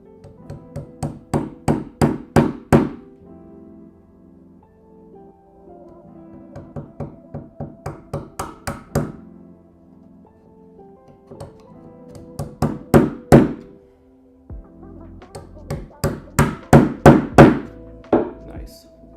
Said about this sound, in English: we need to go to a thinner chisel.